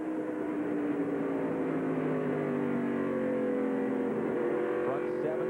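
Stock race cars roaring during a 1996 Busch Series race, the Meridian Advantage 200, a continuous loud engine drone with shifting pitch as cars pass, under steady commentary.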